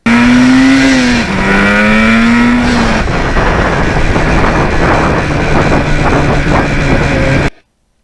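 Kawasaki Ninja motorcycle, a 44-year-old machine, accelerating through the gears in town, loud and close, the engine note rising then dropping at each shift before a sustained higher-revving pull that cuts off abruptly.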